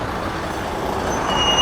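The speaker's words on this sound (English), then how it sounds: "Ooh, big truck." Loud, broad roar of a big truck passing on the road nearby, a continuous wash of engine and tyre noise swelling slightly toward the end with a thin high whine, no speech.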